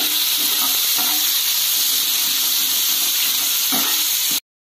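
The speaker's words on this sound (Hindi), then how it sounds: "इसमें हम टमाटर भी डाल देंगे और इसमें भूनेंगे।" Onions and tomatoes sauté in a pan, giving a loud, continuous close sizzle with a few soft stirring scrapes before a sudden cut to silence.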